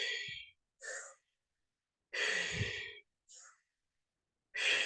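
Conscious continuous breathwork, each inhale and exhale audible as a strong, airy, close breath sound in an uneven rhythm of several separate bursts with short silences between them, and no talk.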